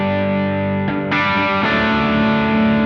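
An electric guitar with P90 pickups played through an Origin Effects Tubescreamer overdrive pedal in stock 808 mode, giving sustained overdriven chords that change twice and ring on loud and alone.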